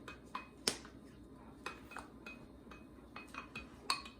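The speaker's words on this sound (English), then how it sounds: "So Bryce is gonna mix that." Slime ingredients, including a dash of pretty add-in, stirred in a bowl, giving quiet scattered clinks and taps of utensil against the bowl at an uneven pace over a faint background, with no talking.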